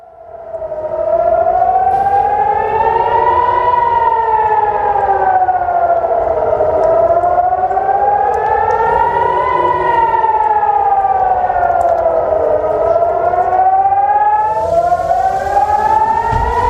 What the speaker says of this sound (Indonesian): Sirene pun menggema membuat warga Israel panik.